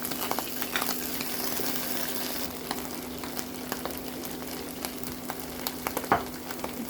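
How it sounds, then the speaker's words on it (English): Mushrooms fry in a pan with a continuous dense sizzle, close and steady, and occasional light stirring clicks break through. "Now let's add our mushroom. Fry for about 5 to 7 minutes."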